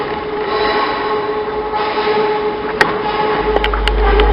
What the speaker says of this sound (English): this will be our train back home